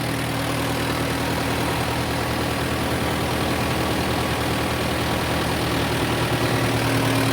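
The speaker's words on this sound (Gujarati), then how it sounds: "ટ્રેક્ટર છે મહિન્દ્રા 475 યુઓ મોડલ।" A Mahindra 475 tractor engine runs a fennel thresher, a loud steady mechanical drone with a low hum and constant rattle, unbroken and close, with no talking.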